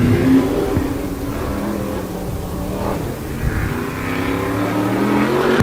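Modified race car engine on the Wall Stadium speedway during a Turkey Derby qualifying run, a steady loud engine drone that rises and falls across the clip with continuous rumble and no talk.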